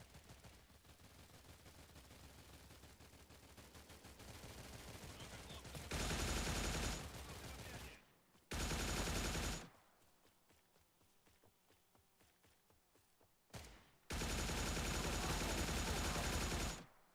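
Bursts of video game gunfire erupt in loud, sustained blocks between stretches of quieter game ambience, with a steady background of movement and rumble throughout.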